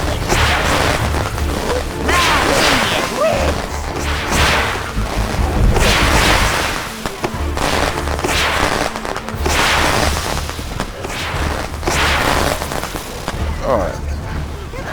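Fireworks in the video game Overlord II burst in a series of loud booms and crackling whooshes, recurring every couple of seconds over a low rumbling game soundtrack.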